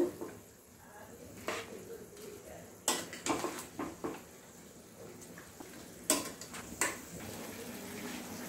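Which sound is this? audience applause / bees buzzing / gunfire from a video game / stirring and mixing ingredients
stirring and mixing ingredients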